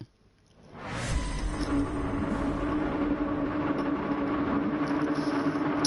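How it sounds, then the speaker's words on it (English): Race car engines revving at the start of a race in Gran Turismo 7, rising from near silence into a sustained, loud, throaty roar that holds steady for several seconds without speech. "Listening to them all revving their engines, trying to burn a bit."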